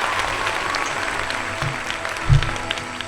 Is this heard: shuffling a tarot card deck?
no